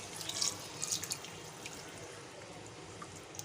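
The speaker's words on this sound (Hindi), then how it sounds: "अब हम इसमें ऐड करेंगे 2 गिलास पानी" Two glasses of water poured into a cooking pot of shab daig make a soft, continuous trickle and splash with a few brighter drips early on, low and without voices.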